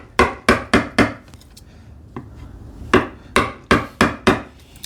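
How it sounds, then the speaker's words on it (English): Mallet blows driving a chisel for a split cut in wood during hand-tool work on a TV unit: two sets of four or five sharp, evenly spaced knocks with a pause between, loud and close. "it's a pleasure when this when we do this split cut and all those things with a chisel"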